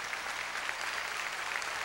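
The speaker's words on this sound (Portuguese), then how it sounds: "uma grande salva de palmas." A congregation at a Mass in a sanctuary gives a warm round of applause for military police and children, the even clapping fairly soft and distant.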